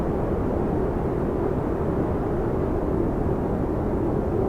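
A rocket engine in Kerbal Space Program throttling back roars as a steady, broad, unbroken rush of thrust noise, loud and even throughout with no talk.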